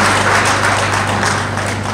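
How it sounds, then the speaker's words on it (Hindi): An audience at a Bishnoi community poetry gathering applauds a guest, with steady, dense clapping from many hands sustained for a couple of seconds over a low electrical hum. "आपकी जोरदार तालियों से आपका स्वागत"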